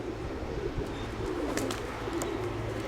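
Pigeons cooing in soft, low murmurs close by, with faint rustling and a few higher chirps over steady background noise.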